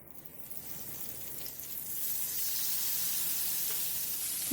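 Butter melting into a little hot oil in a reused pan sizzles in a steady, soft broadband hiss that builds and then holds, close and continuous, with no talking.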